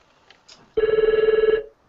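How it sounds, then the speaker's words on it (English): An office telephone rings after hours in one loud, steady burst after a brief pause with faint sounds, then stops. "Phone's ringing"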